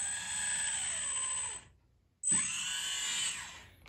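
An RC hydraulic excavator, the Kabolite K336 with a brushless motor, spins its upper body with a steady high whine, stops briefly, then whirs up again with a thump, close and alone.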